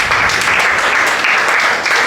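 Audience applause at a church Good Friday sermon: a dense, steady wash of many hands clapping together, loud and close, filling the whole moment without any voice over it.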